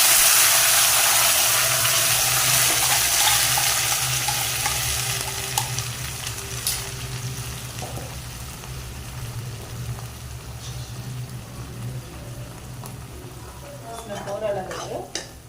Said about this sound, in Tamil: 2 நிமிஷம் நல்லா எண்ணெய் தெரிஞ்சுக்கிற அளவுக்கு இதை நல்லா வதக்கணும்.